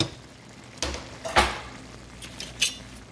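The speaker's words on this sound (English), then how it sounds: "And just stir it up." Bacon is stirred in a cooking pot, giving soft scraping and a few brief clinks of metal against the pot over a low background hiss.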